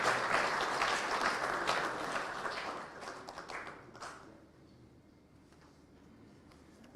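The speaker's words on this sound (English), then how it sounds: "Let's give them a better round of applause." Applause for a panel of speakers at a memorial lecture for Mwai Kibaki, dense steady clapping from a large audience that thins and fades away over the last few seconds.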